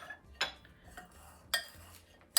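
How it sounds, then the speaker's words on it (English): A utensil clinks and scrapes in a bowl as cauliflower is stirred with amchur and salt, three or four sharp metallic taps close by, quiet in between. "add the amchur and the salt in it together, and then stir it"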